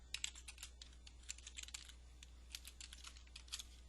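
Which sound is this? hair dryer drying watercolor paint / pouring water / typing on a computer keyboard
typing on a computer keyboard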